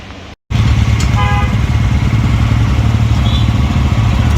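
A Royal Enfield Bullet motorcycle engine runs loud and close after a brief cut, a steady thumping idle with a faint horn-like toot partway through.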